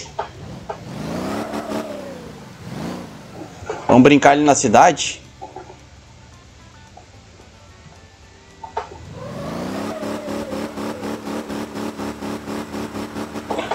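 A car engine in the driving game Motor Town revs hard to full power in repeated rising surges, loud and close, broken by a few clattering bursts, with someone talking over it.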